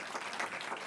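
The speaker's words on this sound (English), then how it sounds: "Let's give him another round of applause" Brief applause from an audience at a governor's bill-signing event, a dense patter of clapping heard only for a moment.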